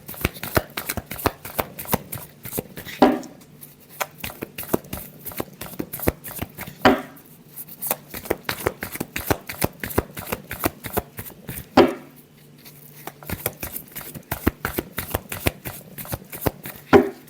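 Tarot cards are shuffled in rapid, crisp riffling bursts that repeat for the whole stretch, with brief pauses between rounds, close and clear, with a voice speaking faintly in the background.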